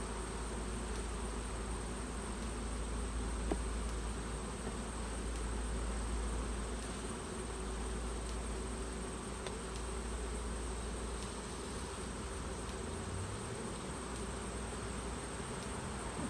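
Honeybees hum around an open single brood chamber hive in a constant, even buzz that fills the whole stretch at moderate level, with no voices over it.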